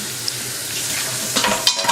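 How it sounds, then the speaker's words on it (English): Steady sizzling and crackling of crab cakes frying in a pan, with a few brief scrapes and clatters near the end. "No, I'm frying it."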